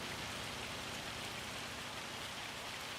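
In a farm sim game, a hailstorm pelts the ground with a constant dense patter, quiet yet uniform from start to finish, no voices over it.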